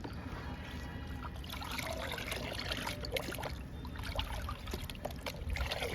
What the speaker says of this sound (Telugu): ఇంకా లిక్విడ్ని వాటర్ని బాగా కలుపుతాము.